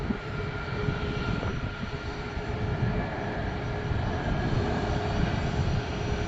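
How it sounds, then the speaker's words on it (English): A jet airliner, a Boeing 737 or Embraer 170, at Cleveland airport, a continuous broad engine roar that holds steady and fairly loud, with no voices heard. "there's a lot of 737s, and or mostly 737s and Embraer 170s"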